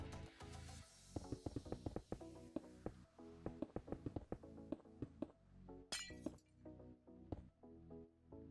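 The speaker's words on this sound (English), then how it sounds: "And then I'm just going to fill in the gaps with my grey stained glass panes here" Grey stained glass panes are placed one after another in Minecraft, giving a rapid run of sharp glassy clinks and cracks over a continuous background.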